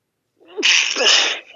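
A person sneezes once, sharply and close by, after a short silent pause. The sneeze is a loud, breathy burst.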